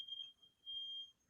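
A smoke alarm gives off a thin, steady high-pitched beeping tone, faint and distant in an otherwise quiet room, holding for about a second.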